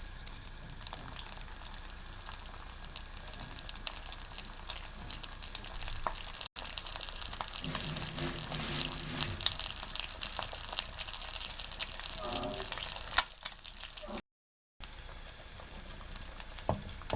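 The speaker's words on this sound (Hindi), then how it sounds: "दूसरी साइड से हल्का सा फ्राई करना है" An egg fries in a pan with a steady, close sizzle that runs nearly throughout, with a faint stirring or scraping sound partway through and a brief dropout near the end.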